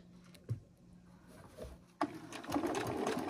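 A few soft clicks and knocks, then a sewing machine starts up and runs steadily, stitching backpack fabric along its edge at a close, even pace.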